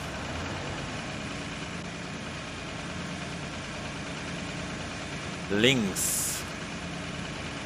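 Tractor engine in Farming Simulator 19 starting up and idling steadily during winter service work, a low continuous rumble under someone talking, with a brief mechanical chirp near the end.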